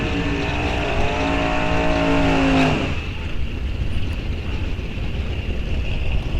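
A drag racing car at a drag strip roars with a loud engine note that climbs in pitch for a few seconds. The roar then cuts off abruptly, leaving a broad, windy rumble.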